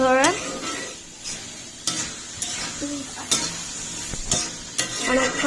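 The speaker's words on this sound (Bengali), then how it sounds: "এবার আমরা কষাচ্ছি অনেকক্ষণ" Dried fish curry (shutki) sautés and is stirred in a pan: loud sizzling with repeated scraping strokes and clanks of a spoon against the metal, and a brief voice at the start and end.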